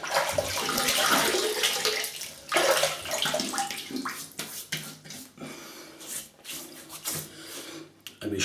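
Water splashes from a tub or tap as hands cup it to wet a face before shaving, with bursts of rushing flow giving way to quieter drips and rubbing.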